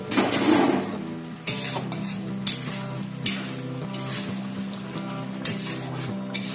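A bread ball mixture is stirred in a pan, with a utensil scraping and clinking against the metal in a few sharp strokes over a soft sizzle, while melodic background music plays.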